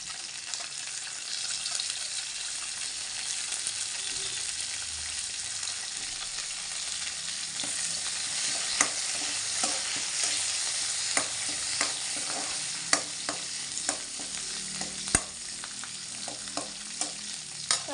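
Curry leaves crackle and sizzle in hot oil for a sambar tempering, a steady fizzing hiss punctuated by sharp pops and spatters, close by with no voices.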